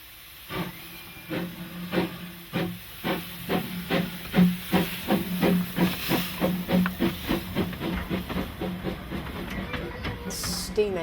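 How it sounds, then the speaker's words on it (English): A steam locomotive at Newmill Station on the Launceston Steam Railway chuffs in a steady, quickening rhythm of sharp exhaust beats over a continuous steam hiss, close and fairly loud, with a short burst of higher hiss near the end. "the engine runs round its train while the passengers stretch their legs"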